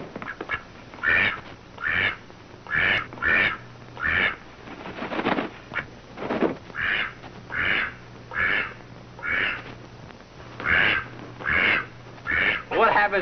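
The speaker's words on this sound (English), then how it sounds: "What happens to the duck?" A duck used in a stage magic act quacks repeatedly in a steady, evenly spaced rhythm, loud and close, with faint talk underneath.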